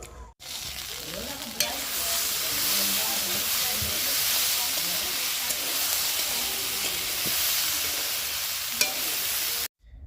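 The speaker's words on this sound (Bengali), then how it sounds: "এই যে এখানে আমি হালকা তেল দিয়ে ভুট্টাটা ভেজে নিচ্ছি, এখানে লবণ দিয়েছি আর দুটো কাঁচা লঙ্কাও দিয়ে দিয়েছি।" Corn kernels frying in a little oil with salt and two green chillies, a continuous hissing sizzle with scraping stirs and faint spoken voices underneath.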